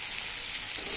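Meat curry spluttering in a hot pan, a dense, steady crackling and fizzing hiss with faint pops, close and continuous with no voices.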